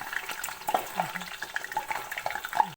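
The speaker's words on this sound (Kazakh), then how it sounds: "Енді қызып тұрған майға пиязымызды қуырамыз." Chopped onions frying in heated vegetable oil for a winter salad, crackling and sizzling steadily with small pops and stirring sounds, close and moderately quiet, with no talk.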